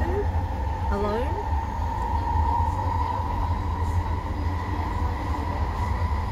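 A Vancouver SkyTrain on the Millennium Line on a rainy day, heard from inside: a constant rolling rumble with a steady motor whine and a brief rising electric tone near the start, with a voice talking over it.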